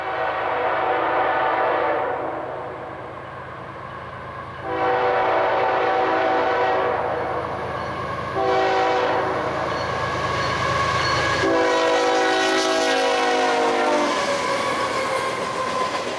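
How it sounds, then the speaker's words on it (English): KCS locomotive 4798 leads CP train 245 in evening light, sounding a series of loud horn blasts over the steady rumble of the rolling train and wheels, with no talking. "KCS 4798 on CP train 245, leading in some nice evening light"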